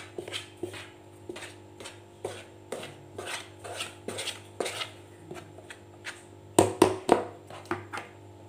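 Rhythmic soft slaps and presses of hands kneading eggless noodle dough in a bowl, repeated steadily about twice a second, with a louder flurry near the end.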